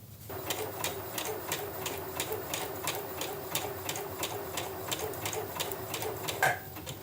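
A Bernette Chicago sewing machine stitches backward in quick reverse, a steady rapid series of evenly spaced mechanical clicks running close and clear without pause.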